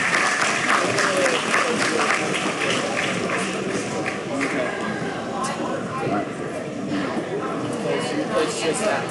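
A crowd applauds at a swine show, steady sustained clapping in a large space with voices murmuring and speaking beneath it.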